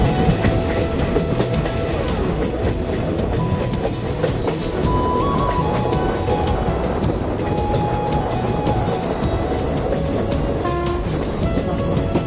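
Train running through the Araku valley, heard from onboard as a continuous loud rumble with rhythmic clicks of the wheels on the rails throughout, and a few faint tonal squeals.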